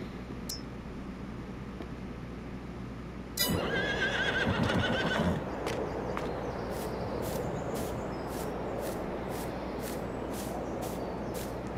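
A video game horse in Farming Simulator 22 whinnies loudly after a stretch of quiet hum, then faint rhythmic hoof clops follow against a steady electronic background.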